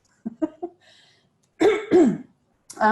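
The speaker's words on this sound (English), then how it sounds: "Excuse me, I might have to cough." A few short throat-clearing coughs, then two loud, harsh coughs close up, followed by another throaty cough.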